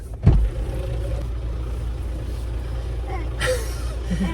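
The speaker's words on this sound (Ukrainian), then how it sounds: "Брум-брум, трактор" A tractor engine runs out in a field with a steady, low rumble throughout. A sharp thump sounds near the start.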